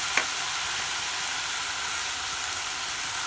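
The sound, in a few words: stirring vegetable curry with coconut milk in pan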